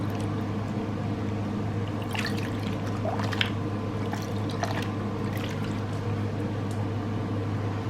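Water is poured and trickles during a change of the soaking water for a stamped cross stitch piece, a steady liquid flow running continuously under a low background hum, with faint splashes and no talking.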